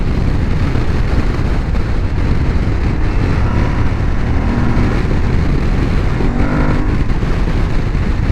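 Adventure motorcycle, an Aprilia Tuareg 660 or Honda Transalp 750, pulling in sixth gear, a loud, steady, close engine drone with wind noise throughout and no talk.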